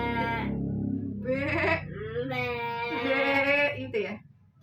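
Goat bleating in a series of drawn-out, wavering cries with short pauses between, close and fairly loud, heard on its own.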